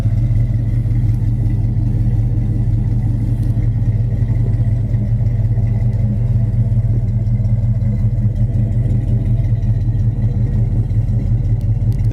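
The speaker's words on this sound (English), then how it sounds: "Dual exhaust sounds great." A 1972 Chevy Chevelle Super Sport 454 with a four-speed and dual exhaust idles close by with a deep, steady, loud rumble that holds even throughout, with faint mechanical clatter underneath.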